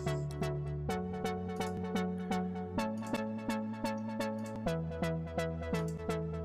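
Repeating synth chord stabs with a steady rhythmic pulse, bass trimmed and slightly thinned, playing a looping pattern with a chord change near the end.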